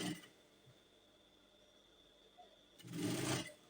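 A sewing machine stitches down a trouser pocket, a brief loud burst of rapid whirring near the end after a quiet stretch of faint room hum.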